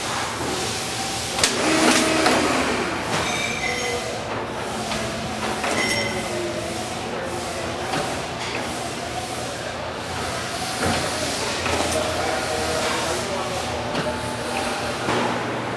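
A 990-H screw machine starting up and running steadily, its continuous mechanical hum and rattle overlaid with clatter as screws are cleared and loaded into the hoppers, with occasional sharper clanks.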